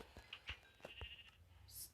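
Sheep bleating in Minecraft, several short nasal bleats in quick succession, fairly quiet and close, with no talk over them.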